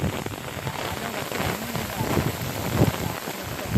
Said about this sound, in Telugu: ఒకసారి వర్షం చూడండి ఎట్లా వస్తుంది.